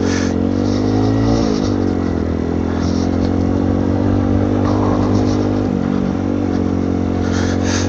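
A motorcycle engine drones loudly and steadily on the road, its pitch dipping and rising briefly as it shifts, with no talking.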